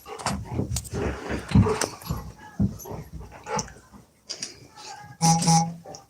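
A dog barks and whimpers in a series of uneven bursts close by, with faint rattling and household knocks in between and a louder yelp near the end.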